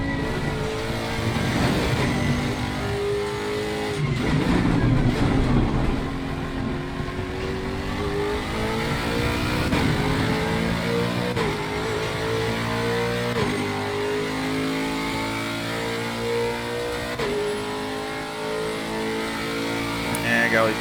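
Lexus RC F GT3 race cars roar around Kyalami in the Assetto Corsa Competizione racing game, engines revving up and down through gear changes with several cars nearby, while someone talks over the steady engine noise.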